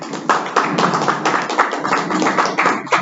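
Audience applause following a speech at a Sunshine Meeting: a dense, steady wash of many hands clapping at close range, continuous and even throughout with no voices over it.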